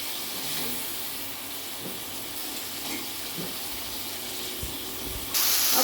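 Black pepper, coriander and cumin powder being roasted in a pan, giving a steady soft hiss and sizzle throughout, with a brief louder burst of sizzling at the very end.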